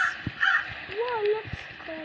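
A crow caws in the Roblox Brookhaven game, a few harsh rasping calls with a falling pitch, close and clear, while a player talks over it.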